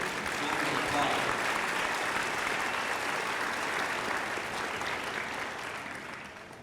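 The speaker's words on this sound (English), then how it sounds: "Let's give him another round of applause." Applause from a graduation ceremony audience for a high school performance, a full steady clatter of many hands that swells early and gradually fades toward the end.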